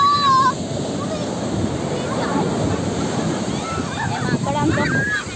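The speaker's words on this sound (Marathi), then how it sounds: "मोठी लाट आली" Sea waves crash and wash up on Devgad beach in a continuous roaring surge, loud and near, with people's voices and shouts mixed in over the water.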